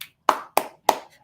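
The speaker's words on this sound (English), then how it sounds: "So clap for Jed Hoyer" A few people on a podcast clap for Chicago Cubs executive Jed Hoyer, with three sharp, separate claps spaced about a quarter second apart, close and fairly loud, with no talk over them.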